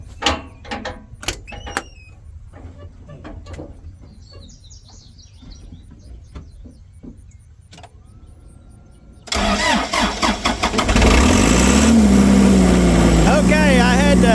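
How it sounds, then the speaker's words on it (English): A crop sprayer's engine cranks and fires up after a stretch of quiet outdoor birdsong and small knocks, then settles into a loud, steady, close running roar. "I had to start the sprayer up"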